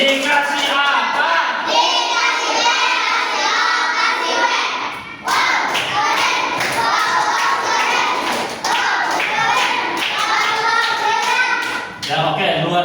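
Students in a fourth-grade classroom clap for a group, a dense, sustained burst of many hands with children's voices mixed in, loud and close throughout with a brief dip midway.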